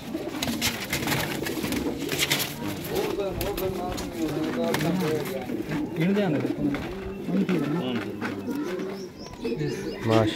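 Fighter pigeons coo repeatedly in low, throaty rolls, several birds overlapping close by, with occasional chirps over a steady ambient din.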